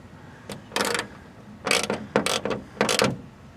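Ratchet wrench tightening 10 mm acorn nuts onto bolts through a fiberglass hood on a Ford Bronco, short bursts of rapid clicking pawl ratcheting, close and crisp, in several separate strokes with pauses between.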